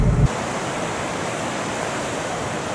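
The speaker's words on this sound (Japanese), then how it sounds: "海に着きました" Ocean surf at Nagtabon Beach on Palawan Island, a continuous loud wash of breaking waves with no voices, after a brief thump at the start.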